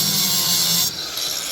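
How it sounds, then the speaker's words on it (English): A grinder cuts through aluminum scrap from a microwave in a brief, loud, high-pitched burst of grinding that eases off partway through, with no one talking. "Sometimes just hitting with the grinder is faster."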